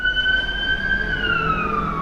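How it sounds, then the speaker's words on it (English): An ambulance siren wails steadily as it passes, its tone sliding slowly downward toward the end, fairly loud over low traffic rumble. "Excuse the ambulance."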